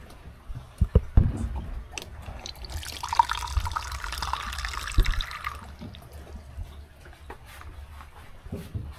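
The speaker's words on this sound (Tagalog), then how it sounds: "Kailangan maglagay ko ng tubig." Water runs and splashes into a container at home, a broad steady pour building for a few seconds then tapering off, with scattered knocks and handling sounds around it and no speech.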